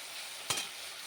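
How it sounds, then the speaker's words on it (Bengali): Potato pieces frying in oil give a faint, steady hiss with one brief clatter in the middle and no voices. "তেলের মধ্যে দিয়ে দিয়েছি টুকরো করে কেটে রাখা আলুগুলো একটু লাল লাল করে ভেজে"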